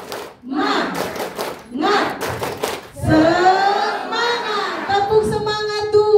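A group at a foundation work meeting performs an Indonesian tepuk semangat spirit clap, two quick bursts of rhythmic clapping, then voices rise together in a loud shouted chant.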